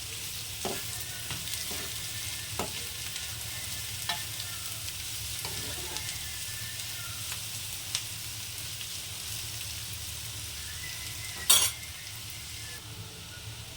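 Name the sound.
grated potato frying and being stirred in pan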